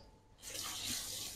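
Water poured from a tap over rice in a pot for washing, a steady close hissing splash that starts after a brief quiet moment and runs on evenly.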